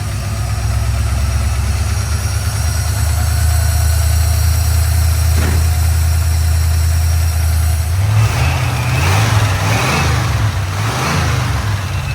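A V8 swapped into a Toyota FJ40 rumbles steadily at idle, loud and close, then gets a few throttle blips near the end that briefly raise the pitch.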